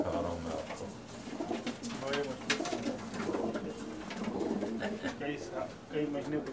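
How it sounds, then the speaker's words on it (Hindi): Pakistani fancy pigeons coo in soft, repeated rolling calls, mixed with someone talking throughout and faint background noise. "ये बहुत स्पेशल कबूतर है जो दिखा रहा हूँ मैं आपको।"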